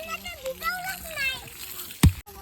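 A voice and other chatter are followed by a single loud splash of water near the end as water is poured onto a cricket ground being prepared.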